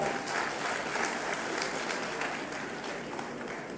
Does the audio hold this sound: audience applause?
yes